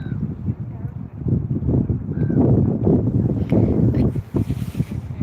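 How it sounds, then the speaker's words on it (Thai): Strong wind by the sea, rough gusty buffeting on the microphone under a person talking, rising and falling in loudness. "ลมแรง"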